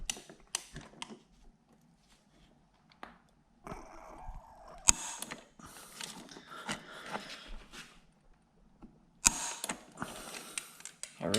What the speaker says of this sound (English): we're just gonna tighten this down to 36 foot-pounds